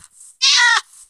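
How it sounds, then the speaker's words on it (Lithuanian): Cat in the mobile game Minecraft Pocket Edition gives a single short, bright meow, clear and close against near silence. "Miau."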